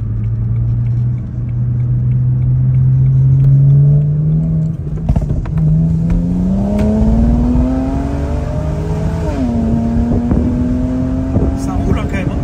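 A car engine drones loudly at low revs, then climbs through rising gear-change sweeps as it accelerates, with men chatting casually over the steady motor noise.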